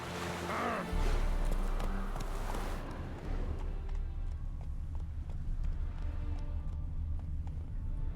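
Horse galloping in The Witcher 3, steady drumming hoofbeats with low rumbling underneath, loud and close throughout, with a brief voice near the start.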